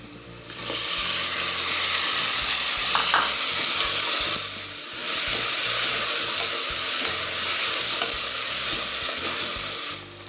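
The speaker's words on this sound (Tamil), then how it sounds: "இப்போ வெங்காயம் நல்லா வதங்கணும்" Onions and tomatoes frying in a pan for kuska plain biryani, a loud continuous sizzle with scraping stirring strokes, briefly dipping midway before resuming, close and alone.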